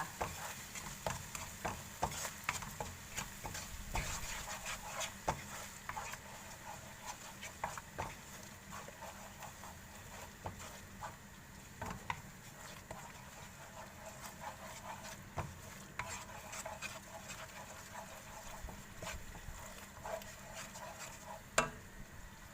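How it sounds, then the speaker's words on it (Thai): Seafood sauce stir-fried in a pan, with a soft, steady low sizzle and a scatter of faint scraping stir strokes running throughout, no talking. "ผัดไปเลยค่ะ ผัดให้หอมเลยค่ะ"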